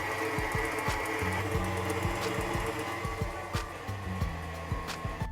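An electric mixer beats a pumpkin mixture with cream at medium-high speed, a steady close whirring drone with a faint rattle of beaters against the bowl running throughout.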